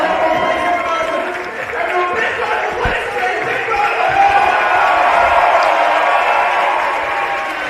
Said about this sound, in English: Yeah, big cheer for Max.